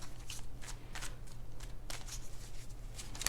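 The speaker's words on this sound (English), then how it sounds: "All right, 2 more shuffles." Tarot cards being shuffled by hand in repeated soft riffling bursts, close and fairly quiet, with no talking over them.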